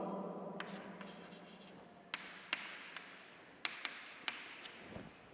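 Chalk or marker writing an example on a board during an organic chemistry lecture, faint scratchy strokes with several sharp taps spaced irregularly, heard alone in a quiet room.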